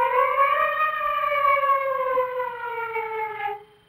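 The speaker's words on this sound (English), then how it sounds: "The siren, you'll think it's a police." A sustained wailing siren rises slightly then holds steady and loud before cutting off abruptly near the end, heard alone in a 1961 television comedy show.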